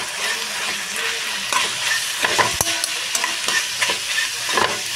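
Chicken coated in masala sizzles and fries in a pan while being stirred, with soft continuous sizzling and repeated scraping clinks of a spoon against the pan, up close.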